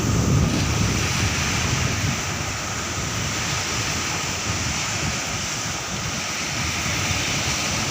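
Strong sea waves crash continuously against the shore under heavy wind as a low-pressure system moves in, with loud, broadband roaring surf and wind buffeting the microphone throughout.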